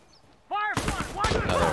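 Gunfire in a video game, a short sharp burst of loud shots following a brief tonal game sound, with a voice reacting underneath.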